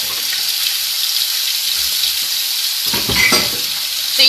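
Meatballs fry in oil in a pan over medium heat, a steady close hiss of sizzling with a brief rise of spattering and stirring near the end.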